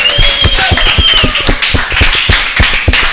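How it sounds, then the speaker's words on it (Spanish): Loud, close clapping honours a panel at a sports discussion event, sharp regular hand claps in a quick rhythm with a voice speaking over the top. "Un aplauso a este panel."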